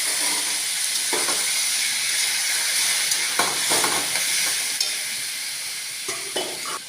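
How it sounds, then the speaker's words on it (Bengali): Taro leaves frying in white oil with five-spice tempering give a soft continuous sizzle and hiss, interrupted by a few scraping stirs of the spatula, fairly quiet and close. "প্রথমে সাদা তেল দিয়ে দিলাম, তারপর 5 ফোড়ন সম্বাস, তারপর কচু শাকগুলো ছেড়ে দিলাম এইভাবে"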